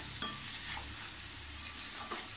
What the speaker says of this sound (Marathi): आपण एकदा ढवळून बघूया की आपली केळी शिजली आहेत की नाही